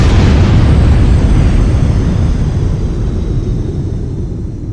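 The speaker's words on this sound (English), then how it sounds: "Oh no, Tom, your head just exploded." A comedic head explosion sound effect: one loud, close, deep boom that hits at once, then rumbles and slowly fades over several seconds, with no talk.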